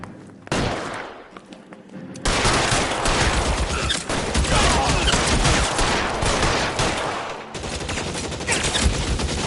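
Heavy video-game gunfire from LA Noire Remastered, a dense sustained fusillade of rapid shots after a brief quiet start, loud and continuous with a short lull before it resumes.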